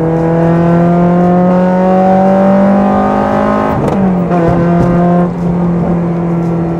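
A loud Honda Integra Type R (DC5) engine revs high in third gear past 5,500 RPM as VTEC engages, with rising harmonic whine, drops briefly at a gear change, then climbs again, close and continuous.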